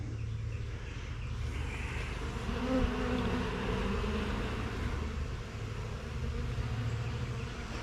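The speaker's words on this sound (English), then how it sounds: "you wouldn't believe the ball of bees that'll fight for that little 1/8 inch hole" A dense, steady buzz of many bees swarming close by at a hive entrance, droning continuously with no pauses and no talking.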